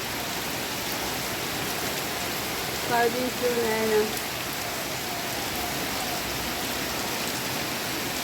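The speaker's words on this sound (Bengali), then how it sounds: "সকাল থেকে বৃষ্টি শুরু হয়েছে, এখন তো তুমুল হচ্ছে।" Heavy rain pours down in a dense, unbroken hiss, steady and enveloping, with a person speaking briefly partway through.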